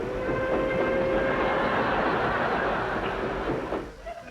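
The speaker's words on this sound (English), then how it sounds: "Amtrak introduces its new bullet train." A new Amtrak bullet train rumbles past with a steady roar and faint clatter, a few tonal hums riding on top, fading out near the end.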